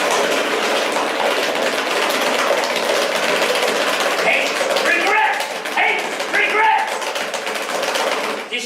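A dense, rattling, rapid clatter of Tupperware containers played as a makeshift instrument for a rendition of a song, loud and continuous throughout, with some vocal sounds mixed in.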